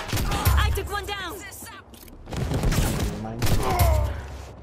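Sniper rifle shots ring out in a player-versus-player video game match, sharp bursts mixed with rapid gunfire and mechanical clatter, loud and close, with a voice talking in between.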